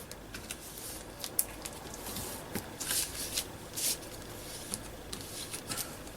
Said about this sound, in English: So I will just fold that over again